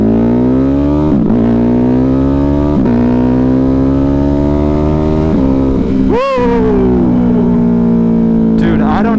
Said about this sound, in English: All right, first acceleration